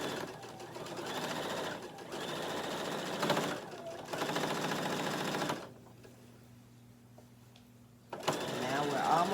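A sewing machine stitches a fabric tote bag in bursts of fast, steady mechanical whirring, close and loud, stopping briefly before restarting, while a person talks over it.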